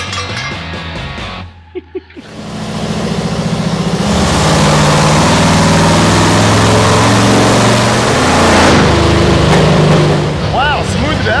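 Rear-engine mini truck with its mufflers pulled out, running lean: a loud, raw engine roar builds after a short pause and holds steady near the microphone for several seconds before easing off.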